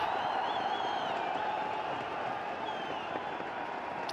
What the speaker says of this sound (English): listen to the crowd because Boom Boom's on strike